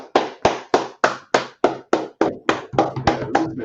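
Rhythmic clapping in an online class, roughly a dozen sharp, evenly spaced claps in a steady beat, loud and close as if from one participant's microphone, picking up slightly in pace toward the end.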